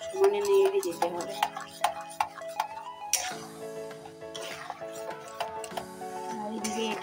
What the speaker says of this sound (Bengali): এবার এটা সমানে নাড়তে হবে, 1 মিনিটও বন্ধ দিলে হবে না, সমানে নেড়ে যেতে হবে।